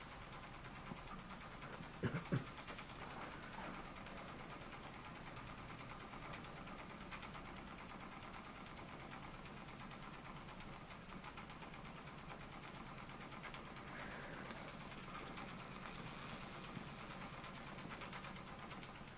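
A Cyldon 13/2 model steam engine with semi-rotative valve gear runs steadily under steam, giving a continuous rapid mechanical chatter at an even level, with a brief louder clunk near the start.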